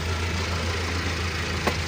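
A Toyota Hiace Grand Cabin van's engine idles with a steady low hum. A brief sharp click sounds near the end.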